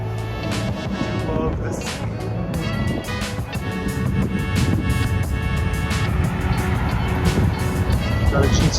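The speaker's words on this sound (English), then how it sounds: "GTO coming out." A Pontiac GTO muscle car drives out of a Cars and Coffee meet, its rumbling engine building steadily louder nearby as it pulls away, mixed with crowd chatter and other car noise.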